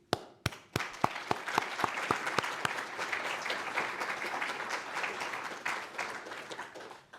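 Audience applause at a professorship chairing ceremony honoring a cardiac surgeon, opening with several sharp separate claps that build into sustained, fairly dense clapping from a medium-sized crowd through to the end.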